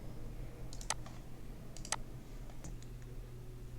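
A computer mouse clicks twice, about a second apart, crisp and close in a quiet room, followed by a fainter click.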